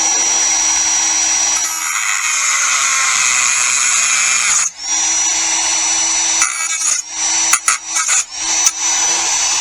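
A rotary tool's cutoff wheel whines steadily at a loud, piercing pitch, close by. Near the end the cut is broken by several quick stops and restarts.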